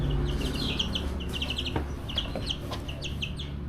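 Several loose chickens cluck and chatter close by after getting out of their run, overlapping short calls and chirps over a constant low background hum.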